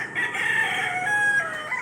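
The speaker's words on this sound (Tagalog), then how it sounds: "Labuyo yan, labuyo na manok yan" A labuyo, a wild jungle fowl rooster, crows once in a single drawn-out call, close and clear with nothing else around it.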